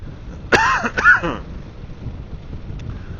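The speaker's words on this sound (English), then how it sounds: "Pardon my cough." A single harsh cough, close to the microphone, breaks briefly into a throaty rasp, then quiet outdoor wind noise continues.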